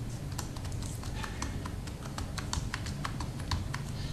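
Rapid keystrokes on a computer keyboard as a mobile number is entered to log in, a steady run of light clicks and taps, fairly close, over a low background hum with no talking.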